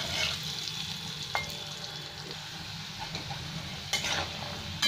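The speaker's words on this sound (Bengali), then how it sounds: "আলুটা একটু লাল লাল করে ভেজে নেব।" Potato pieces coated with turmeric and salt fry in oil with a steady, close sizzle, broken by a couple of sharp clinks of a utensil against the pan.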